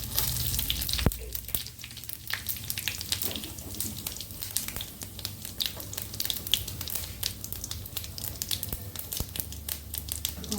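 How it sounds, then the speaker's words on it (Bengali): A bay leaf and cumin seeds hit hot oil for Bengali ghugni, giving a continuous close hiss of frying with dense crackles and spits and a louder pop early on. "দিব একটা তেজপাতা, দিব সামান্য একটু জিরে ফোড়ন,"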